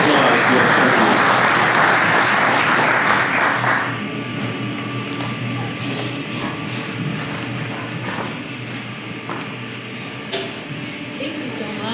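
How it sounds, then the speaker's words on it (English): An audience at an immigration talk claps loudly and densely for about four seconds, then the applause thins into scattered claps and room noise. "Round of applause."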